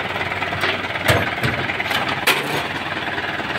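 A truck engine runs close by with a rough, steady clatter and a few sharper knocks, continuous and fairly loud, with no talking.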